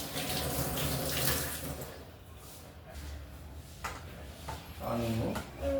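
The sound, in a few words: tap water running while washing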